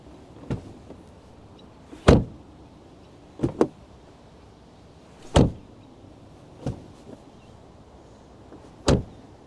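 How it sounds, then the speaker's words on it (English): Doors of a V8 Mercedes-Benz W210 E430 opened and shut several times, each a sharp solid thunk, spaced a second or two apart, close by with quiet between. "can we just appreciate the sound of these doors?"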